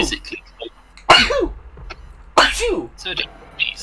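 Two loud, close human sneezes a little over a second apart, each a sharp burst with a voiced trailing tail, amid faint background clicks and brief vocal sounds.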